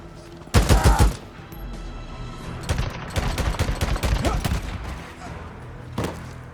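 Gunfire from the video game Days Gone: a loud opening burst of rapid shots, then a sustained stretch of dense automatic fire with scattered bursts, followed by a final short volley, with voices mixed in.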